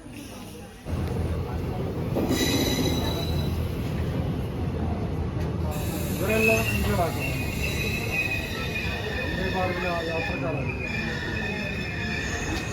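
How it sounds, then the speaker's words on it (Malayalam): A Vande Bharat express train rumbles steadily into Kasaragod railway station, with a continuous low roar and some high metallic squeal, while people talk nearby. "മാംഗ്ലൂരിൽ നിന്ന് പുറപ്പെടുന്ന വന്ദേ ഭാരത് ഏഴ് മണിയോടുകൂടി കാസർഗോഡ് റെയിൽവേ സ്റ്റേഷനിലെത്തി"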